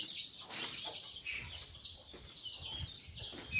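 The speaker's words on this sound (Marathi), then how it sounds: "हे सगळे आपल्या गावरण कोंबडी गावरान कुकुड पालन आहे" Free-range village chickens on a Marathi smallholding cluck and chirp steadily in a busy, close flock, with a rooster's voice breaking through over continuous low farmyard noise.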